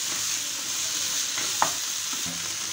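Mushroom masala sautéing in a pan, a steady close sizzle with a few light scraping and stirring clicks, no talking.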